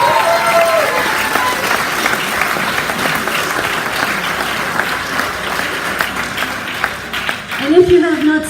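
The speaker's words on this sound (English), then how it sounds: "Please cheer them." A crowd at a Canada Day 150 reception in Bridgetown applauds and cheers for the chefs, sustained loud clapping mixed with voices and whoops that swells near the end.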